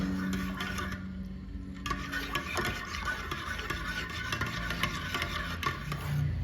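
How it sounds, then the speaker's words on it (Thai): Milk with melting caramel candies stirred in a pot, a continuous close scraping and swishing of the spoon against the pot with a faint simmering sizzle beneath. "แล้วก็คนต่อไปอะค่ะจนกว่า ตัวลูกอมเนี่ยเขาจะละลายทั้งหมดเลยนะคะ"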